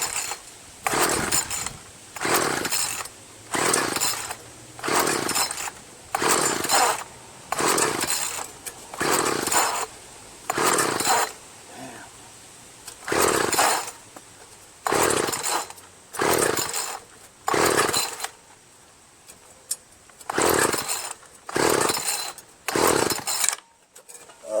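A Ryobi 31cc 410R gas rototiller engine fires in repeated short bursts after choking, about a dozen and a half surges each a second or so long, separated by brief drops, loud and close with no talk.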